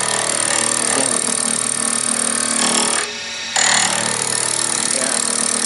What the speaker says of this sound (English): I'm going to take a few more good bites off here with the skew